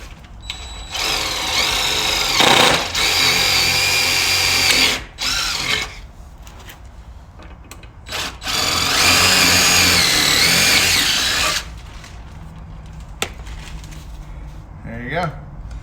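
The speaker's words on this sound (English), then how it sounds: "In this case, it's an impact drill." Impact drill driving screws into a chicken tractor, with two long loud whirring bursts separated by shorter ones and quieter gaps, close by.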